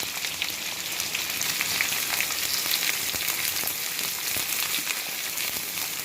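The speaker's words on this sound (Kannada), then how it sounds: "ಈಗ ನಾನು ಈರುಳ್ಳಿ ಹಾಕ್ತಾ ಇದ್ದೀನಿ." Chopped onions sizzling and frying steadily in hot oil with spluttered mustard seeds and reddened urad dal, a dense continuous crackle close up with no talking.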